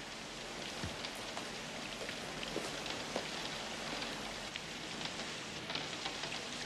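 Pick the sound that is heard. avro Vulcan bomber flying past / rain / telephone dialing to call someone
rain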